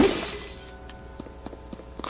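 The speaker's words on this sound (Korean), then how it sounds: "바위에 뭐 깨지겠네." A rock shatters in the video game Zelda: Tears of the Kingdom, a crumbling crash that fades over half a second, followed by several small, evenly spaced clicks or taps against a quiet background.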